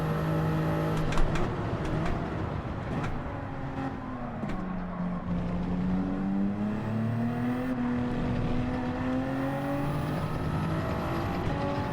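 A Toyota Supra race car in Gran Turismo 7 howls through gear changes, the engine note sweeping up and down with rising shifts, loud and close, other cars faintly around it.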